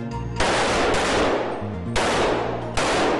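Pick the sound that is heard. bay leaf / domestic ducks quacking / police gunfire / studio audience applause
police gunfire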